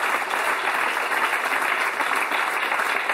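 A crowd applauds steadily, a dense wash of many hands clapping without pause, fairly loud and close.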